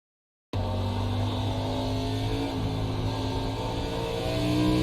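A race car engine in iRacing at Circuit of the Americas holds a steady, loud, buzzing drone that climbs slightly in pitch toward the end, with no clear gear-change break.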